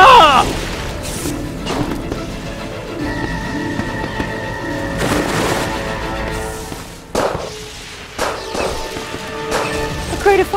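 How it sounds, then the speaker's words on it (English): Crate of fireworks exploding in the video game Jack Keane 2, a series of loud booms and crashing bursts spread across the scene with ringing tails, mixed with game sound and no speech. "A crate of fireworks I got in Shanghai for New Year's Eve."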